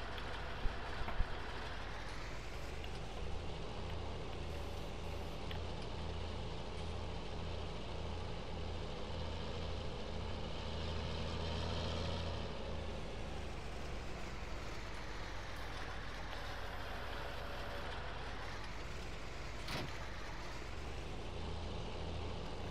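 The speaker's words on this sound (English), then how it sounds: "This is the tractor that I'm gonna bring back on the sprayer." A steady, droning tractor engine in the video game Farming Simulator 19 hums continuously at an even pitch, with a slight rise and fall partway through and no talking.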